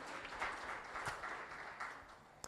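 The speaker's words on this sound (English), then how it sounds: "Give them a round of applause." At a church congregational meeting, the congregation applauds the coaches being introduced, a soft continuous patter of many hands that sounds distant and faint, ending with one sharper knock.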